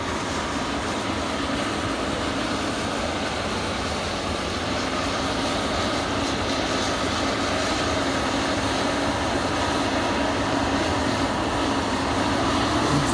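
A log hauler loaded with pine logs rumbles through snow with a continuous, dense droning clatter that holds steady and swells slightly toward the end.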